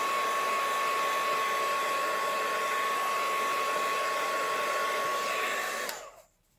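A heat tool on its lowest setting warms glue on a papercraft stamping project, giving a steady, close, loud blowing hiss with a faint whine that cuts off abruptly near the end.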